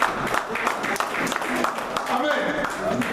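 A church congregation applauds God in a dense, steady wash of clapping that lasts a few seconds, mixed with cheering voices.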